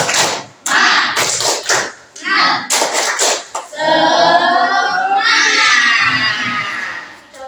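A classroom group of children performs the rhythmic 'tepuk semangat' clapping routine: quick bursts of loud, close clapping in patterned rhythm, then voices chanting and shouting together.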